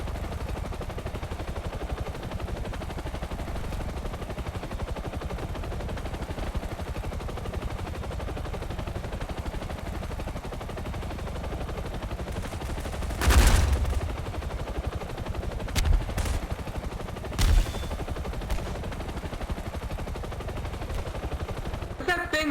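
Video game helicopter strafing a city map opens fire with short rapid bursts of gunfire, loud and sharp over a steady engine drone, with a few further shots after.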